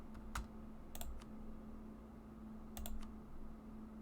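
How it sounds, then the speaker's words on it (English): Computer button clicking while playing Europa Universalis IV, with a few sparse sharp clicks in small clusters over a quiet steady hum. "Alright, we're going to have a lot of button clicking to do."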